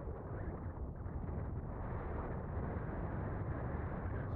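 Steady gusty wind roars across an outdoor microphone on a blustery day, a dense, continuous rushing noise throughout with no talk.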